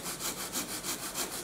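Hand saw cutting through spruce and balsa wood for a model plane, quick rhythmic back-and-forth strokes, close and fairly quiet, with no voices over the rasping.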